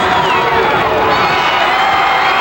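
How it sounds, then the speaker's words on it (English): A wrestling arena crowd at a 1985 match between Adrian Street and Randy Savage cheers and roars in a loud, dense, continuous wall of noise with voices mixed in. "The crowd responds."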